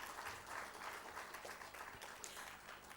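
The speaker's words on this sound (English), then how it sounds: "Let's give them all a round of applause." Faint, steady audience applause at a welcome address, continuous dense clapping throughout the short stretch, heard from a distance in a hall.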